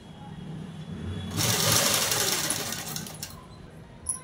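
Sewing machine stitching along the lining of a prince-cut model dress, a steady close whirring run of a few seconds that swells then fades, with no talk over it.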